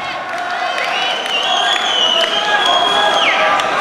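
A fight-night crowd at an FFC event roars and cheers for Scottish fighter Harry McDonald, a loud sustained wall of shouting with whoops and a high voice rising above the din.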